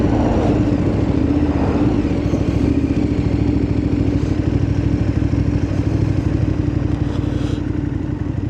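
A motorcycle rides along, its engine throbbing loud and steady with wind rush and mechanical clatter throughout, no talking.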